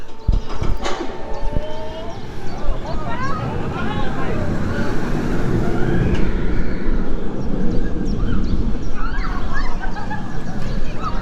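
A Vekoma roller coaster train rumbles past at Walibi Holland, a continuous roaring clatter with faint squeals and distant shrieks riding over it.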